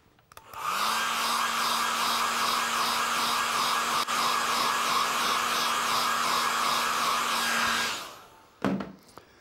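A hair dryer blows steadily on watercolour paint, a loud continuous whirr with a fixed hum that runs alone for several seconds, then switches off with a brief clatter.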